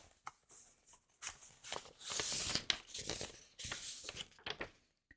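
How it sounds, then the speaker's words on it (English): Papers shuffled and rustled up close during a live podcast recording, a run of dry crinkling and sliding bursts with brief pauses between them. "Shuffling papers."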